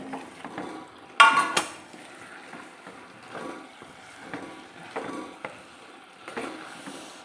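Loobikka pickle being stirred in a pot, soft intermittent scraping and wet shuffling strokes with a sharper clank early on, quiet and close, no talk.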